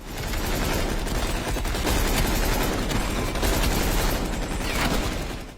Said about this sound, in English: Pulling out a machine gun requires a lot more pressure, and tricks your brain into getting the impression that this gun is a heavy beast.